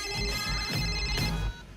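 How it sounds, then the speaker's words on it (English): A telephone rings in a tinny, tonal electronic pattern of repeated bursts, fairly close and clear, with no talk over it before the ringing drops away near the end. "It's ringing."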